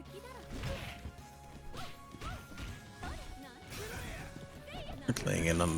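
Fighting-game hits in King of Fighters XV, a Shatter Strike connecting amid a flurry of smacks and whooshes, ending in a louder crashing impact, all under a commentator talking throughout.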